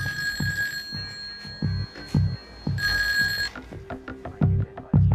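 A telephone bell rings in two long bursts, loud and close, over a steady rhythmic thumping beat with bright tapping sounds.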